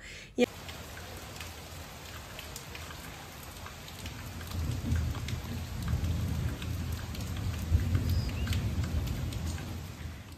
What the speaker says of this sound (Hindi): बारिश की बूंदें धरती पर उतर भी आई हैं